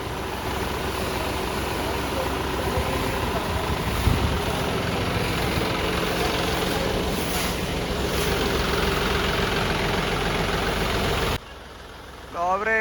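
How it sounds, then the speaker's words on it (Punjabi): A homemade pressure washer pump's engine runs steadily and loudly, a dense continuous drone that cuts out briefly near the end before restarting, with people talking over it at a gurdwara. "ਇੱਕ ਨਾ ਬਾਈ ਪ੍ਰੈਸ਼ਰ ਵਾਲਾ ਪੰਪ ਆਪਣਾ ਬਣਾਇਆ ਹੋਇਆ ਵਾ"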